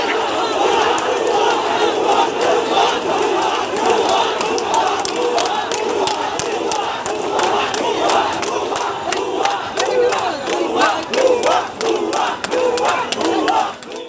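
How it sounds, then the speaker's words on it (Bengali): Students on a protest march for quota reform push past a police barrier onto Abdul Gani Road in front of the Secretariat in Dhaka, chanting a rhythmic two-beat slogan over and over, loud and close, in a continuous crowd roar. "এ সময় শিক্ষার্থীরা ভুয়া ভুয়া স্লোগান দিতে থাকেন।"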